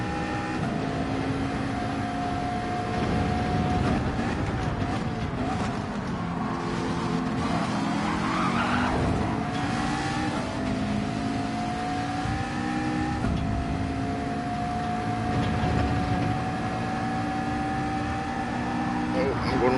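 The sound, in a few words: Ferrari race car engine in video game Gran Turismo 7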